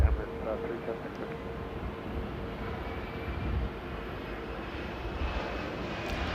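An Emirates Airbus A380 lining up for takeoff on a runway at LAX, heard as a steady, broad jet-engine roar at middle distance with a faint radio voice over it.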